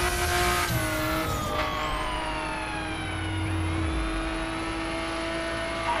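Car engine roaring and shifting pitch during a police chase in the racing video game The Crew, loud and continuous with tire noise and a passing whoosh, no talk.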